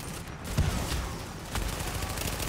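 Gunfire from the video game The Division, a steady rattle of shots in a firefight lasting the whole moment, with no talk over it.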